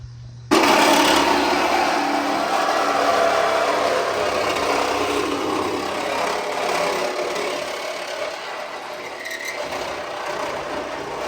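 A power tool bursts into loud, steady cutting as it chews through the quarter panel of a crashed BMW, a harsh grinding roar that runs without a break to the end.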